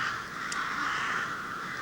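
Crows caw loudly and continuously, a harsh, raspy chorus of overlapping calls close by in the open air, with no voices.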